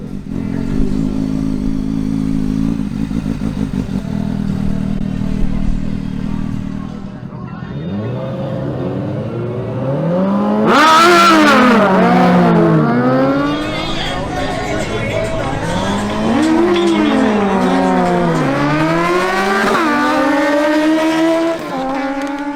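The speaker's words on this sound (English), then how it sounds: "Wilson Penzo's Honda CBR1000RR facing off against Cristian Alcala's Suzuki GSX-S750." A Honda CBR1000RR and a Suzuki GSX-S750 at a drag race, engines idling and then revving hard through rising, shifting gear whines, loud and close, with a crowd murmuring and a voice speaking over the bikes.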